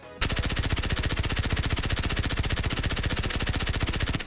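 An MP7 submachine gun in a video game fires one long, unbroken automatic burst at a wall, with rapid evenly spaced loud shots lasting about four seconds.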